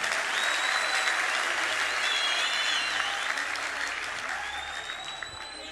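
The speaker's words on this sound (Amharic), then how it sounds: "ካጨበጨባችሁ ለጌታ በደንብ አጨብጭቡ።" Sustained applause from a church congregation fills the space, a dense, steady wash of many hands clapping that carries on evenly before easing slightly toward the end, with faint voices and cheers mixed in.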